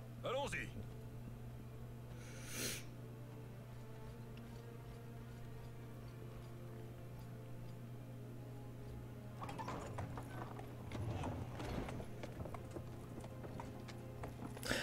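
Horse hooves clip-clop in a steady ticking rhythm within a game scene, carrying on under French conversation with faint mechanical clicks mixed in.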